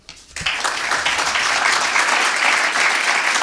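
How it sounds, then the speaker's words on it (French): An audience at a French equine agriculture event bursts into sustained applause, starting with a few claps and swelling into loud, steady clapping that continues throughout. "la chaleur de vos applaudissements"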